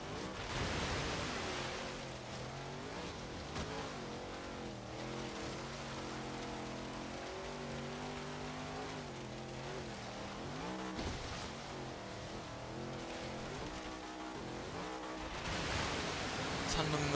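1966 Ford F-100 racing trophy truck in Forza Horizon splashing through water off-road, a steady rushing hiss of spray over a revving engine with shifting pitch, loud and continuous, with a voice speaking over it.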